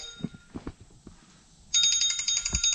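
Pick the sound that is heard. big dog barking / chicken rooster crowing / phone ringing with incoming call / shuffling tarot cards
phone ringing with incoming call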